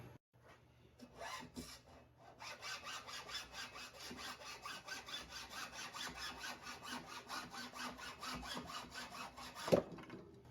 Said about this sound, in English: So I'm going to just cut a little piece of pipe to fit in between here.